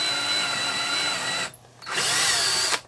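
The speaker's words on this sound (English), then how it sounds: "finish drilling the holes for the rest of the screws" A power drill whines steadily at high speed drilling screw holes while installing a washer dryer combo in an RV, pauses briefly, then revs again for another short burst, close and loud.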